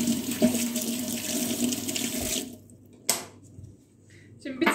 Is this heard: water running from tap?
yes